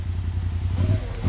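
Off-road side-by-side UTV, a Pro XP or Maverick X3, revving its engine while stuck deep in mud on Drummond Island, a steady low growl that swells in short bursts, close and loud.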